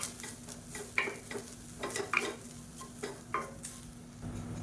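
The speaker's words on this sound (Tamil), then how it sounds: "இப்போ தேங்காய் நல்லா வதக்கியாச்சு" Grated coconut being roasted and stirred in a pan for kozhukattai filling, with rhythmic spoon scrapes and occasional clinks against the pan over a low steady sizzle and a faint background hum.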